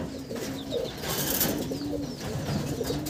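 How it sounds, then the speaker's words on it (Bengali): Abluk bloodline pigeons in a loft give a run of low, burbling coos, several overlapping calls rising and falling steadily and fairly close, with no talking. "এই লফটে সব থেকে বেস্ট পায়রা হচ্ছে আবলুক ব্লাড লাইন"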